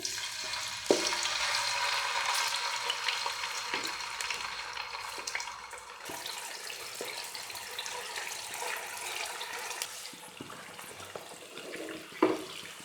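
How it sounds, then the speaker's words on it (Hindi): Marinated chicken frying in hot oil for lemon pepper chicken: a continuous broad sizzle with occasional sharp clatters and scrapes of a utensil against the pan, close and moderately loud, with no voices. "मैरिनेट किए हुए चिकन को अब ऑयल के अंदर ऐड कर रही हूँ।"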